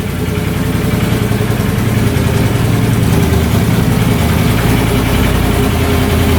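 A steady ATV engine idles close by, a continuous low rumble with an even mid-range hum and no talking.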